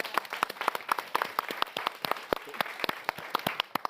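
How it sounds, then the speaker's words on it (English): A small audience at a London youth summit on breaking barriers claps in a scattered, uneven round, individual hand claps distinct and fairly close, lasting about four seconds with no one speaking. "Again, round of applause."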